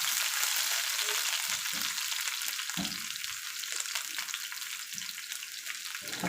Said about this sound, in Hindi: 1/4 कप हमने ले लिया था ऑयल और आधा कप इसमें प्याज डालेंगे